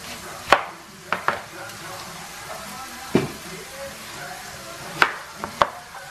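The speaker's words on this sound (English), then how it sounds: "now I'm going to start dicing up the radishes" A knife dices radishes on a cutting board for keto zuppa toscana, giving sharp, separate chops with uneven gaps over a quiet kitchen background, alone and fairly close.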